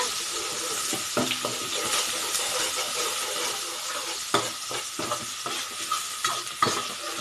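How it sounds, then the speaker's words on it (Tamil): Small-chopped large onions sauté in hot oil in a pan for a roadside-style mushroom kalan snack: a continuous close sizzle broken by sharp clicks and scrapes of stirring. "பெரிய வெங்காயம் சின்ன சின்னதாக கட் பண்ணினதை ஆட் பண்ணி நல்லா வதக்கி விடுங்க"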